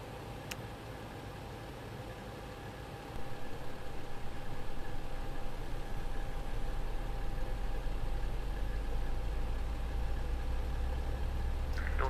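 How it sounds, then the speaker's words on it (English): Airbus A319 engine spooling up in a flight simulator game, a steady low hum that swells noticeably a few seconds in and then holds as a continuous drone. "We may start the engine"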